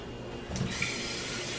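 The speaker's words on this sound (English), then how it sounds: "I'm going to put a little bit of water in these so that doesn't burn" Water runs steadily from a tap into the empty sections of a cake pan, a soft continuous splashing and trickling.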